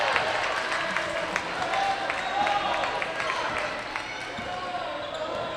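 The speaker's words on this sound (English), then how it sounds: "Crowd's loving it." Crowd cheering and applause fill a gym during a North Greenville versus Bob Jones women's basketball game, with a steady wash of noise, ball bounces and sneaker squeaks, and a commentator talking over it.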